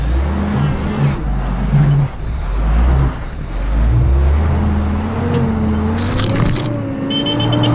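A wagon's engine revs hard as it climbs a wet, slippery 4WD track on Climies Track in Tasmania, a loud, close, steady drone that rises and falls with throttle changes and whines higher near the end.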